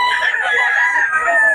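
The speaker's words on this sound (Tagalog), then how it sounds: "Napakaraming manok dito" A rooster crows in a long, drawn-out call over a background of clucking chickens, loud and close throughout.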